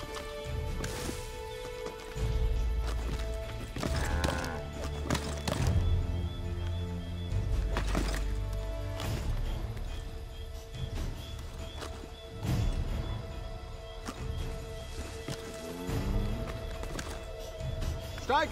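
Horse hooves gallop in a steady rhythmic clip-clop while riding in Assassin's Creed 3, close and fairly loud under game music and occasional speech.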